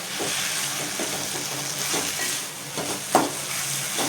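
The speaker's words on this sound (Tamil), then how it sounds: "இது தக்காளி வெங்காயம் இது எல்லாமே நல்லா வதங்கணும்." Tomato and onion sauté in a pan for spring onion chutney, sizzling steadily while a spoon stirs in regular scrapes, with one sharper clink near the end and no talk.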